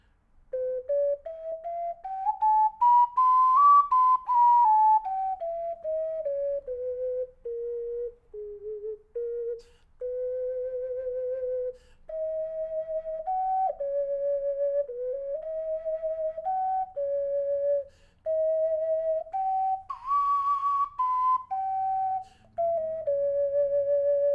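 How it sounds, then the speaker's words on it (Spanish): An ocarina plays a slow, smooth solo melody of sustained pure tones that glide up and down, steady and fairly loud with no voices. "les doy una prueba de sonido para esta ocarina"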